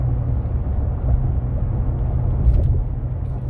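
A 2017 Dodge Ram 5.7L 4x4 pickup rolls on 275/60R20 Iron Man All Country tires, giving a steady low rumble of road and tire noise with a brief bump near the end, no talk.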